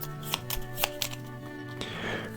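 Board game cards and tiles for a solo Mythwind session are shuffled by hand, a quick run of soft riffling snaps and clicks close up, followed by a brief sliding rustle.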